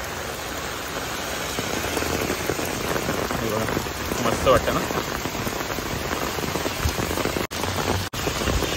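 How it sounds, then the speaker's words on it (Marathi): Heavy monsoon rain pounds an umbrella on a Mumbai street near Ravindra Natya Mandir, a loud, dense, close drumming roar without letup, with a brief spoken remark and a couple of short dropouts. "छत्रीचा आवाज पण येत असेल बघा जोरदार, एवढा जोरात पाऊस आहे"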